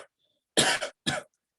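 Two sharp, harsh coughs close by, one after the other with a short pause between, in an otherwise quiet room.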